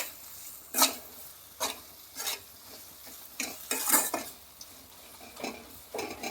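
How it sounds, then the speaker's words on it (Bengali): Coriander powder stir-fried in a pan for a fish-head moong dal curry, heard as a few quiet, spaced scrapes of a spoon against the pan over a faint sizzle, close by. "ধনা গুঁড়া অল্প করে দিয়ে দিব, দিয়ে ভালো করে কষাবো"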